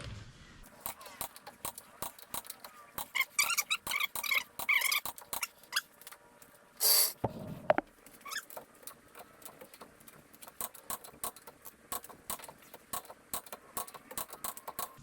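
Clicks from tightening the lug nuts on a Cybertruck wheel during a tire rotation, a run of sharp irregular ticks close by, with a couple of louder bursts partway through.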